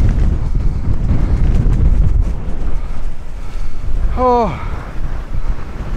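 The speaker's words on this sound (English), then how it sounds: "My God, is it windy." Strong wind buffets the microphone on a Dartmoor hilltop near Yes Tor and High Willhays, a loud continuous roar that fills the whole clip, with a brief spoken exclamation over it.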